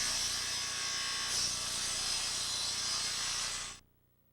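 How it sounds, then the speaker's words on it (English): A Makita miter saw making a bevel cut through 3/4-inch plywood, a steady loud whine of blade and motor held for nearly four seconds before cutting off abruptly into near silence. "Now a standard bevel cut on a piece of 3/4 inch plywood."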